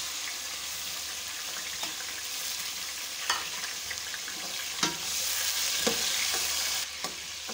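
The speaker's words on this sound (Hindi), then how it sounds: "तो अब हम इसमें टमाटर डालेंगे।" Tomatoes hit hot oil with garlic paste in a pan for pumpkin sabzi and fry with a steady, close sizzle. Occasional sharp clinks and stirring scrapes break through the sizzle, and no one speaks.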